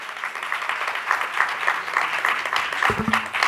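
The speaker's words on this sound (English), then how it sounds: "Give her a round of applause" A crowd applauds steadily at a school district advisory board meeting, a dense patter of many hands clapping throughout, with a few thumps near the end.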